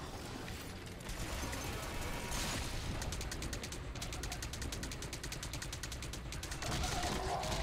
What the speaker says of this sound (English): You had to pump him full of, like, machine gun fire.